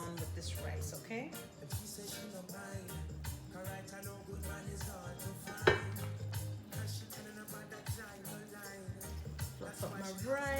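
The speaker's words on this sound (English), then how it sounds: "Fluff up my rice and then I'm gonna use a spoon and stir it" A spoon stirs and fluffs steamed red rice in a pot, with clinks and scrapes on the pot over a steady background of kitchen noise and some talk.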